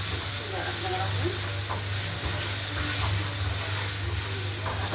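Egyptian shakshuka stirred in a hot pan, with a continuous loud sizzle and frying crackle under repeated scraping stirs, close and steady throughout.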